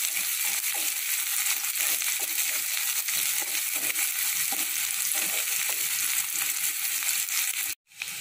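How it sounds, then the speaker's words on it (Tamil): Onion and garlic sautéing in oil with pepper and cumin for a bitter gourd kara kulambu, a steady close sizzle with stirring scrapes throughout, a brief dropout near the end. "வெங்காயத்தை போட்டுடலாம். பூண்டை போட்டுடலாம். நல்லா எண்ணெயிலேயே வதக்கலாம்."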